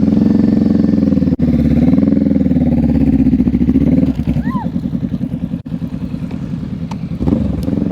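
A motorcycle engine hums steadily at low speed through a slow, tight turn, with small throttle rises and dips as the rider holds the lean, and a nearby instructor's voice runs over it.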